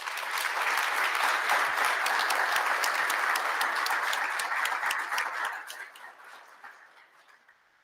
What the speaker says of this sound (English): If we could have one more round of applause, please